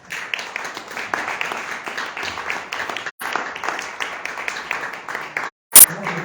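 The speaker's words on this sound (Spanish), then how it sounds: "Un aplauso para..." Sustained applause from a seminar audience in Acámbaro fills the room, a dense wash of many hands that briefly drops out twice before resuming.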